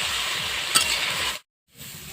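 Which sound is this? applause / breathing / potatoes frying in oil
potatoes frying in oil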